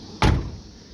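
A single solid car door thump on a rusty old Pontiac Ventura, one loud close that quickly fades, heard alone.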